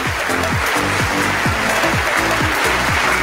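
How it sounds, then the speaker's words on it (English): Audience applause for Butch at a group session, a steady, dense wash of clapping over a repeating melodic tone pattern, with no talk. "Give Butch a big round of applause."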